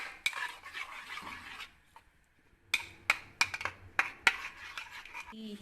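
A spoon clinks and scrapes against a metal bowl while lemon juice is mixed for a biryani layer, first a steady scraping stir, then a pause, then a run of sharp taps and knocks, close by with no talking.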